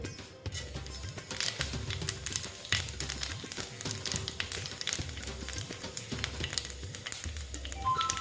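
Panch phoron five-spice seeds with a bay leaf crackling and sizzling in hot oil in a home kitchen, a steady close patter of small pops and fizz with light scraping, no talk.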